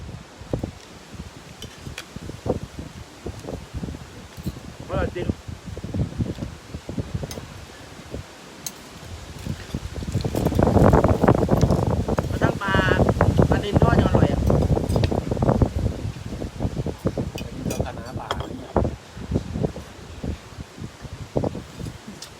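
Strong wind gusting outdoors, buffeting the microphone with rough low rumbles that swell into a loud sustained blast midway, accompanied by rustling and intermittent talking.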